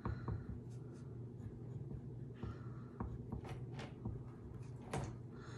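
Pen drawing on paper, soft scratchy strokes in short bursts with small taps and pauses, close and quiet, no voices.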